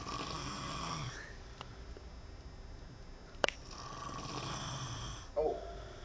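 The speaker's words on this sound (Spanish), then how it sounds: "Estos son los ronquidos más grandes del universo." A bull snoring loudly, two long rasping breaths separated by a sharp click, close to the microphone.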